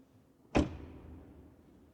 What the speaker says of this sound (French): Ensuite, le son de fermeture de la porte.